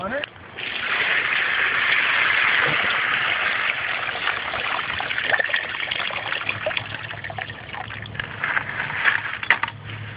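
Water pours and trickles steadily in the foreground while panning for gold, the flow swelling and easing with some splashing.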